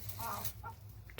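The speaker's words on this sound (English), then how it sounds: "She's a really, really good hen." A hen clucking close by, a few short soft clucks over a low steady background hum.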